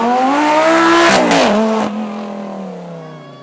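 A Lamborghini V10 screams through a high rev on track at a supercar weekend, climbing to a loud peak and then falling away into a lower, receding drone as it passes.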